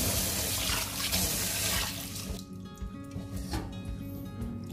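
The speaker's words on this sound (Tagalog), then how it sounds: "huhugasan muna natin yung rice natin para siguradong malinis" Glutinous rice is rinsed in a bowl under a running kitchen tap, with water gushing loudly and then continuing to pour and slosh a little more softly, close by and with no speech.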